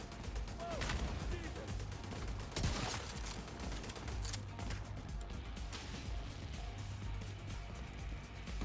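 Enemy turrets in The Division 2 firing in game: a steady stream of distant rapid gunfire crackling through the whole stretch under moderate game noise, with a few sharper bursts.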